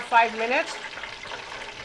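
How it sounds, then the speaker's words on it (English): South of the Border egg rolls fry in hot oil with a continuous soft sizzle and crackle, heard under a brief spoken remark near the start. "Look at these, are looking fantastic. They're frying."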